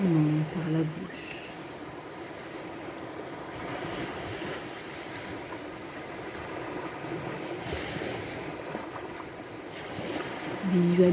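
Ocean surf washing in a steady, broad roar along a sandy beach, with gentle swells rising and falling under a soft sea breeze; a calm voice speaks briefly at the start and end over the waves.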